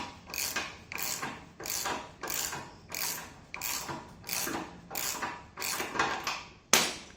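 Dyna bolts driven tight with a socket on a drill while a car hoist is bolted down, a steady run of about ten ratcheting mechanical bursts in even rhythm, close and fairly loud, ending in one sharper final burst.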